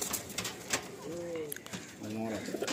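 Madrasi pigeons in a loft coo in short low bursts, two or three phrases near at hand, with people talking over them.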